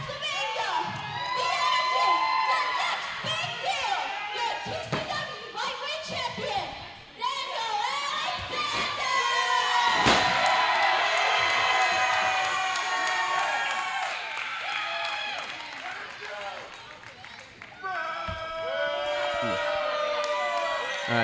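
Crowd at a wrestling event in Aberdeen, New Jersey cheers loudly while children shout and whoop, sustained noisy clamor with brief dips and swells, with an announcer's voice at times over it.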